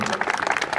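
Audience applause at a Basant Panchami yoga event at an ashram, a short dense burst of many hands clapping steadily throughout, fairly loud and close.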